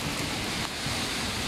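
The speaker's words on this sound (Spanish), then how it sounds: "Otro día más de lluvia," Steady, dense torrential rain pours down on a Miami street in a continuous hiss, loud and close, with no voices.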